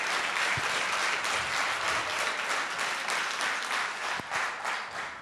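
Audience at a televised show applauding to welcome a singer, a dense, sustained wash of many hands clapping close up, steady throughout with a couple of sharper knocks, no voices over it.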